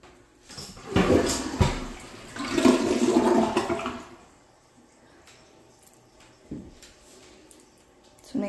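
A toilet flushes in a large house, a loud rushing swell in two surges over about three seconds, then quieter refill trickles with small clunks and faint voices in the room.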